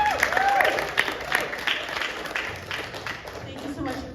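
Film festival Q&A audience giving a loud round of applause, clapping strongest at the start and gradually thinning, with a few voices and crowd murmur mixed in.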